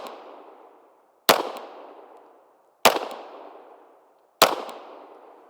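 Handgun fired at a target on a shooting range, three sharp, loud single shots spaced about a second and a half apart, each with a cracking onset and a long decaying echo, after a fading earlier report.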